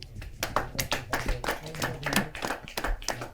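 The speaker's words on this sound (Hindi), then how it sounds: "जोरदार तालियों के साथ" Audience clapping breaks out at a Hindi poetry gathering, an uneven patter of individual handclaps from a modest crowd, close and fairly crisp, with a faint voice murmuring underneath.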